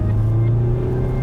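A 2-litre four-cylinder diesel car with 440 Nm of torque accelerates onto a freeway, heard from inside as a steady low engine drone with a gradually rising tone, continuous and fairly loud.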